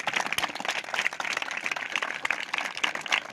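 A church congregation clapping together at a Christmas Day prayer meeting, a dense, continuous patter of many hands that stays fairly loud and even throughout.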